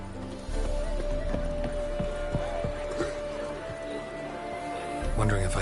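Horses gallop in a race in The Witcher 3 with rapid, overlapping clip-clop hoofbeats over a steady rumble of game sound, and a voice speaks over the action.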